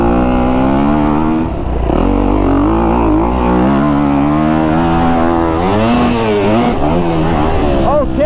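A Kawasaki KX250F dirt bike fitted with a green power coupler revs hard and loud, its engine pitch sweeping up and down continuously at close range throughout.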